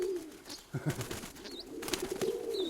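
A pet pigeon coos in low, soft repeated phrases close by, with faint chirps and room noise, while people talk nearby.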